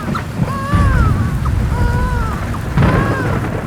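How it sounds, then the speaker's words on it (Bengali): Heavy rain pours on a moonless night over a road through the Jaipur forest, with low rumbling thunder swelling twice, loud and close. Whistling tonal sounds drift over the storm, and no one speaks. "খুব বৃষ্টি হচ্ছে"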